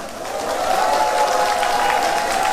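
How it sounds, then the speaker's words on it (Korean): An audience claps to welcome the county governor at an outdoor Yeongdong County Residents' Day ceremony during the Korea Wine Festival in the rain. The applause is steady and fairly loud, building quickly and holding, with a faint sustained tone running underneath. "군수님을 따뜻한 박수로 맞이해 주시기 바랍니다"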